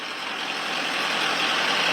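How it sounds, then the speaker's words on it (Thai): Tractor engine running steadily as it drives into a flooded farming area in Mae Sai district, Thailand, a continuous broadband engine drone that builds slightly louder over the moment, with no talk. "ทำไมต้องใช้รถไถ เข้ามาในพื้นที่ยังมีน้ำท่วมขังอยู่นะครับ"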